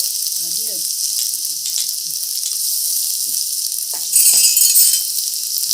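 Ground masala and ginger paste sizzling in hot oil for a country chicken curry, a loud, close, steady hiss that surges brighter partway through, with faint murmured speech early on.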